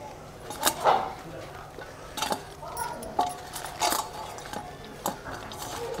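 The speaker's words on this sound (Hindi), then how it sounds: "हम रोटी को इस तरीके से तोड़ देंगे" Roti being torn and broken apart by hand for churma in a home kitchen, producing a series of short crisp snaps and crackles at irregular intervals, close and fairly quiet, with no talking.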